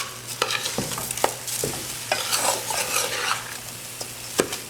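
A spoon scrapes and knocks through rice in a pot of chicken pelau, Trinidad-style, with irregular stirring strokes and clinks over a soft background sizzle of frying.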